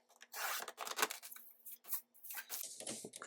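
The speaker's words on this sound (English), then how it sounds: "So let me cut this one to size," Scissors trimming a piece of paper to size for a small handmade folio, several close, crisp snipping and rustling strokes with short pauses between them.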